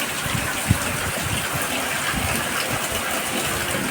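Rainwater pours in a strong, steady gush out of a flooded farm field after heavy rain, a continuous broadband rush of water that holds throughout with no talking.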